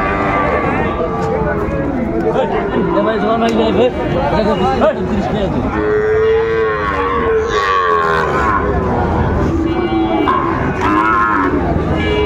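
Sahiwal cattle moo several times at a crowded livestock market in Cumilla, long drawn-out calls rising above constant crowd chatter, with people talking nearby throughout.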